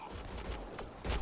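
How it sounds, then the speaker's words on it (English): Gunfire in the video game Mass Effect Andromeda: a fast spray of shots rattles along, then a louder burst kicks in near the end. "They shot him!"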